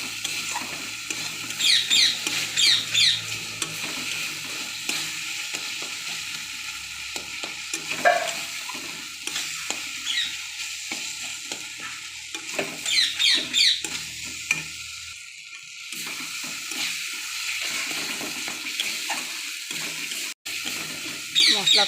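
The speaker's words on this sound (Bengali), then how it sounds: "এবার মশলাটা ভালো করে কষাবো।" A spatula keeps stirring spice masala frying in a pan for a jackfruit (echor) curry, producing steady close scraping and sizzling with intermittent clinks, mostly without talk.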